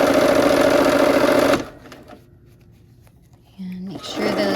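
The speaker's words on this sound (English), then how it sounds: "We're gonna sew this last seam for the block." A sewing machine runs fast and loud, stitching the last seam of a Christmas tree quilt block in a rapid, steady whir, then cuts out to quiet handling with a voice speaking before a brief restart.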